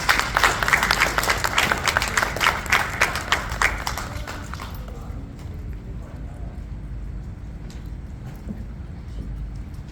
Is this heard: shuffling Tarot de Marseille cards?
no